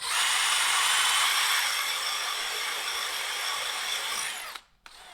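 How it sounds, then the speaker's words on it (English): A power drill whines loudly and continuously as it bores through aluminum, then cuts out abruptly near the end. "Now I'm drilling through that."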